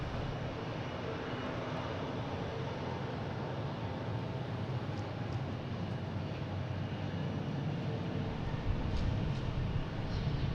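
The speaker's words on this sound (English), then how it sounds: "We have a JetBlue taking off" A JetBlue A220 airliner takes off at Boston Logan, sending a steady, broad jet roar from a distance that holds level throughout.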